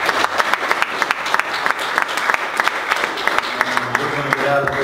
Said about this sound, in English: Ladies and gentlemen, a round of applause for the St.